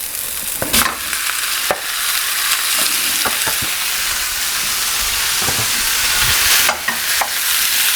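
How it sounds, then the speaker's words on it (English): One pound of ground beef dropped into a pan of browning onions, a loud, dense sizzle filling the air with a few stirring knocks and bumps, close up and without speech. "Now that our onions are starting to brown up, we're going to add 1 pound of ground beef to this thing"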